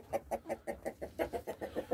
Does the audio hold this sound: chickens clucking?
yes